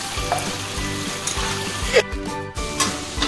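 Spice paste with turmeric and asafoetida sizzling in oil for a fish roe curry, a steady close crackle broken by rhythmic stirring scrapes and a few metallic knocks of the spoon against the pan.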